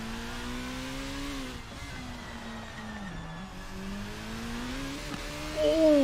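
Super Formula race car at Singapore, its high engine whine rising and dipping as the car slides into big oversteer, then surging louder at the very end.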